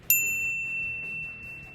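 A notification bell sounds a single bright ding, struck sharply then ringing out with a long, clear, slowly fading tone over faint background noise.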